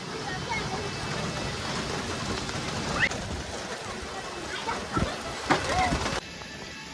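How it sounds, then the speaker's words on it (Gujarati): Heavy rain pours in a steady wash with scattered louder splashes and knocks, faint voices underneath, ending in a quieter hush. "જો ધોધમાર વરસાદ છે"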